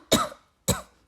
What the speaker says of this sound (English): Sorry, cough.